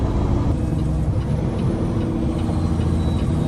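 Engine brake on a Peterbilt dump truck gives a loud, steady, close rumbling roar that holds unbroken throughout, with no talking.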